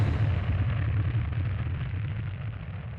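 Battle explosions as a sound effect form a dense, continuous low rumble that rolls on for about three seconds, loud and heavy, with no clear separate blasts and no voices.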